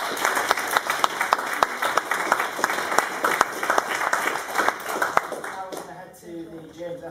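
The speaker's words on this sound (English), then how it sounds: "can we give him a good round of applause for that?" Audience applause after a physics lecture on renormalisation, with many hands clapping in a lively, sustained burst that thins out near the end, leaving a faint murmur of voices.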